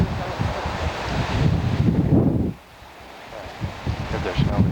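Gusty outdoor wind buffets the microphone in loud, rumbling waves that drop off briefly and then pick up again, with people talking faintly underneath.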